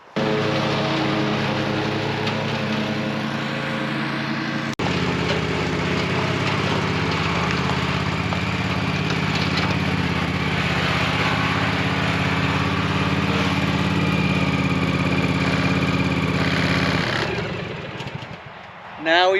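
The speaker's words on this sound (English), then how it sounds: "Now we both can mow on a zero-turn mower." A Toro TIMECUTTER zero-turn mower runs with a steady, fairly loud engine drone that shifts once early on and cuts off near the end.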